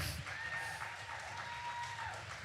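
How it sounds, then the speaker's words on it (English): Applause and some cheering from an audience at a community performance of a Mi'kmaq creation story, steady dense clapping for the cast taking a bow, with a faint whistle or tone running through. "One more hand of applause for them"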